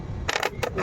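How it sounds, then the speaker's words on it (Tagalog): Coins from a sari-sari store's small change are handled and dropped while being counted to pay for cigarettes, giving two short, bright metallic clinking bursts up close over a low background hum. "Kaya yung ginagawa ko is magbilang ng barya."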